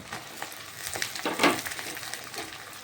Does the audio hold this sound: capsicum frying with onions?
yes